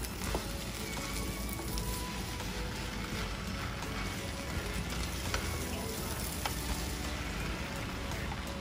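Udon stir fry frying in a pan over medium heat, a steady close sizzle running throughout with faint scrapes of stirring.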